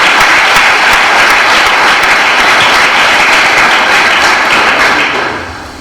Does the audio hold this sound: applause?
yes